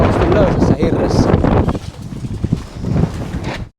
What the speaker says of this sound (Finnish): täällä on ihan jäätävä tuuli